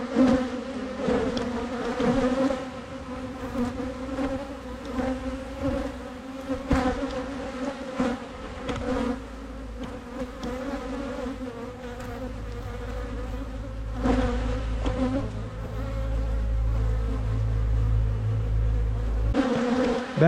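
Honeybees buzz steadily around a mini mating nuc during queen-cell work in a beehive setting, a dense, continuous hum that grows fuller and louder in the second half, with no talking.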